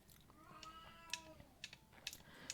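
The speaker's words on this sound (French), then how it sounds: "il y a mon chat qui miaule depuis pas mal de temps" A pet cat gives a faint, drawn-out meow amid quiet sharp clicks, heard indoors at low volume over a brief moment.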